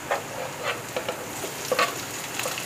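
Tomatoes go into a pan of translucent frying onions, giving a steady close sizzle broken by soft stirring scrapes and small pops, quiet and without voices.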